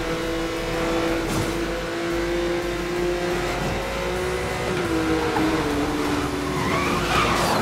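A Porsche 911 Carrera S slides in Need for Speed: Most Wanted (2012), its engine droning steadily under a rushing road roar, with wavering tire squeal and skidding tones drifting through the whole stretch.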